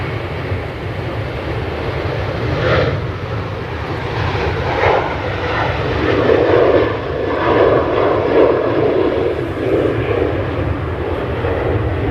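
An airliner departs from Manchester Airport in the early morning, its jet engines building into a loud, sustained roar with low rumble and gusty wind buffeting the microphone, no talking.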